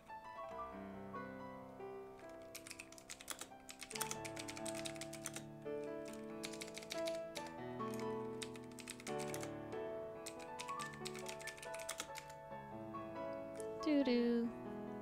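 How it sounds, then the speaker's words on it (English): Clicky keystrokes patter on a Razer computer keyboard in quick irregular bursts, quiet and close, under continuous background music. "It's a freaking Razer keyboard. It just has clickety clacks"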